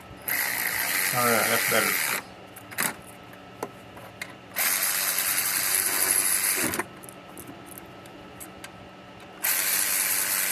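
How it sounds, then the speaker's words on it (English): Power driver running screws into a bracket in three long bursts of whirring, ratcheting mechanical noise separated by quieter pauses with small clicks and handling sounds; someone speaks briefly between bursts. "That thing puts some pretty darn good torque on them screws too."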